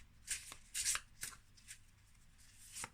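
Tarot cards shuffled by hand, several soft papery riffles and slides in quick bursts, close and fairly quiet, with no talking.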